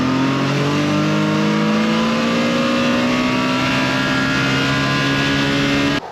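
A desert race car accelerates along a street on a gentle break-in test run, its engine a loud, steady drone with a slowly rising pitch that holds for about six seconds.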